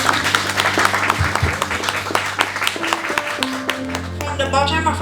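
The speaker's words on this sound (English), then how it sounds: "So let's give us a big round of applause." Applause at a pharmacy graduation ceremony, a crowd clapping steadily over a sustained musical tone, with a brief swell of voices near the end.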